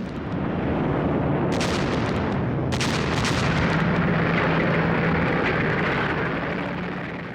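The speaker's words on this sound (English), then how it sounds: "Then there was a devastating artillery bombardment." A devastating Red Army artillery bombardment on the Eastern Front against German defenses, a dense continuous roar of explosions and gunfire with sharp blasts standing out, loud and sustained throughout.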